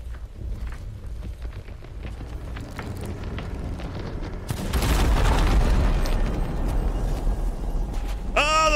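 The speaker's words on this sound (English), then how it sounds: "Oh, the classic explosion." An explosion in the pirate video game Sea of Thieves bursts in as a loud, rumbling blast about midway. It lingers over steady background game noise, and a bright ringing tone rises near the end.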